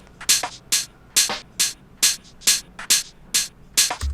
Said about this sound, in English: so you're left with just the hats at the top